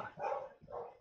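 A dog barks twice outdoors in the early morning, two short, moderately loud barks with a brief gap between them, heard alone with no talk.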